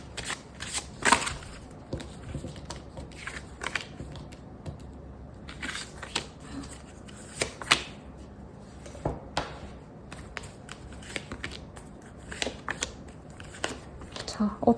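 Tarot cards are shuffled and drawn in a series of crisp, close riffles and slaps with brief pauses between bursts, at moderate volume with no voices.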